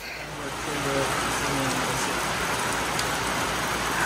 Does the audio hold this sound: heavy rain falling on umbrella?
yes